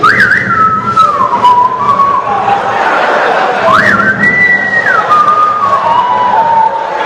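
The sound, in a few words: whistled imitation of Pirates of the Caribbean sound effect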